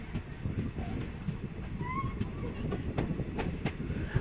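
Passenger train running on its tracks past Byndoor (Mookambika Road) station, a steady low rumble with faint wheel and carriage clatter throughout, close and continuous.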